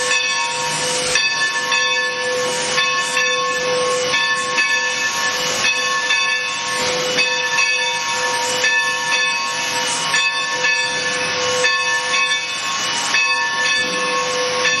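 A steam locomotive at Railtown State Historic Park in California gives off a loud, continuous hiss of steam, with steady tonal whines running underneath throughout.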